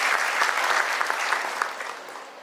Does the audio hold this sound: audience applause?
yes